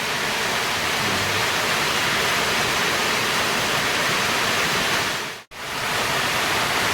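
Steady, dense broadband hiss of heavy rain pouring continuously, loud and close, with a very brief dropout near the end.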